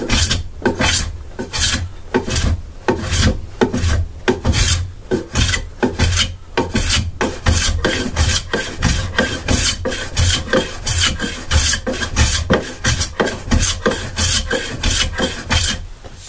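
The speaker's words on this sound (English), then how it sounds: "you'll find you get that nice little sort of cutting scrape the whole length" A tool scrapes in long repeated strokes along a wooden surface, giving a steady rasping rhythm of about two strokes per second, close and loud, with no talking.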